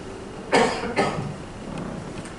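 Two sharp coughs in quick succession from a preacher during a church sermon, close and fairly loud, followed by quiet room tone.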